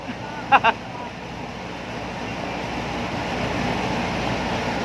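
Wind rushes across a beach where a kite is being flown, a steady broad roar mixed with surf. Two brief sharp sounds cut in near the start, and the rush swells slightly toward the end.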